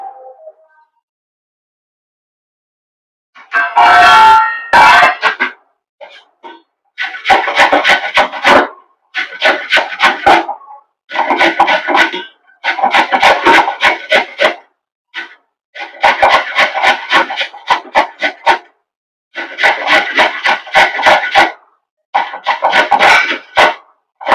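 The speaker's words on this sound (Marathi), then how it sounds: "या आवळ्यांना आता किसायचं आहे. सर्वात जाड किसणीने आपल्याला हे किसून घ्यायचे आहे." Indian gooseberries (amla) scraped along the coarsest side of a hand grater, a string of harsh rasping strokes in steady bursts with short pauses between, close and fairly loud, no voices.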